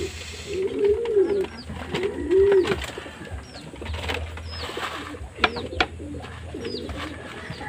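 Two pigeons cooing nearby, soft low throaty coos repeating every second or so, with light rustling, wing shuffles and faint chirps in the background.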